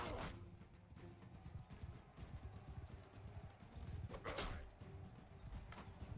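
Horse hooves clip-clop steadily through a chaotic medieval battle in Mount & Blade 2 Bannerlord, a lone rider against three foes, the beat half-buried in constant combat noise.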